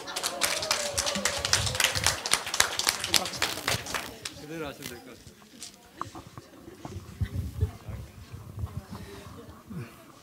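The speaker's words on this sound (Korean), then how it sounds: "우리 한번 큰 박수로" A church training group breaks into applause, with dense clapping for the first few seconds before it thins out and gives way to a voice speaking.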